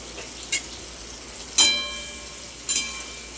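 Eggplant fries in oil for a vegetable curry (vangyachi bhaji): a quiet, steady sizzle broken by three sharp metallic clinks of a spoon against the pan, the middle one loudest and ringing briefly.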